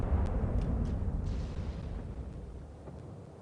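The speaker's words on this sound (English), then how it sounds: "Look what happens when you get hit with high explosive." A high explosive shell strikes a warship in World of Warships with a deep, rumbling boom that fades out over a few seconds, heavy and close.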